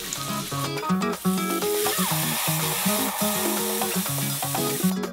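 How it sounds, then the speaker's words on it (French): Vegan and beef steaks fry together in a pan with a loud, continuous sizzle. Tonal background sounds run underneath the frying. "vous pouvez maintenant commencer à faire frire nos steaks"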